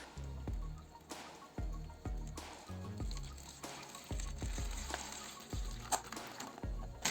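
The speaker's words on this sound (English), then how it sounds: "Now pour the distilled water into the bottle containing the copper sulfate and sulfuric acid solution." Distilled water poured into a bottle holding a copper sulfate and sulfuric acid solution, with repeated low sloshing gurgles in bursts and faint splashes, close and fairly quiet, no talking.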